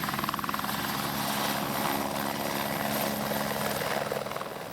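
Close, loud helicopter with a rapid rhythmic rotor chop and a steady engine whine, continuous throughout with no voices.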